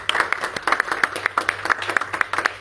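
A church congregation applauds, rhythmic group clapping with distinct sharp claps over a low background, moderately loud and brief.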